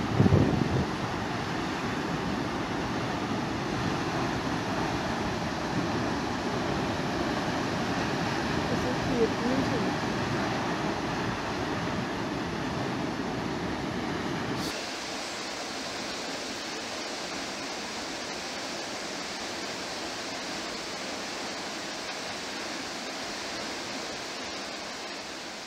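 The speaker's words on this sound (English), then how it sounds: "And there we go. Mount Damper Falls." Mount Damper Falls, the longest single-drop waterfall in the North Island, gives a steady broadband roar that drops to a softer, more distant wash partway through, with some wind buffeting the microphone.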